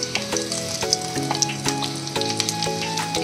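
Gooseberry chutney ingredients fry in oil over a low flame, a soft crackling sizzle overlaid by a run of ringing metallic tones from a stirring utensil against the pan.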